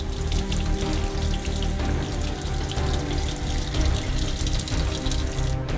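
Marinated salmon fillets rinsed under a running tap, a continuous, fairly loud rush of water splashing into a sink, steady throughout with no voices.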